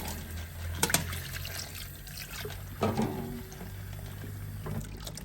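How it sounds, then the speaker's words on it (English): Red speckled beans rinsed in water, sloshing and splashing close by with a couple of sharper swishes, no voices. "Come and rinse this with me, guys. Let's rinse this together."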